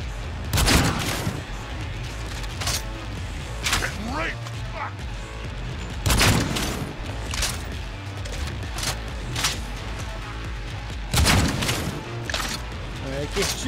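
Gunfire in Cyberpunk, several loud bursts of shots with booming impacts spread across the stretch, mixed with game noise and someone talking throughout.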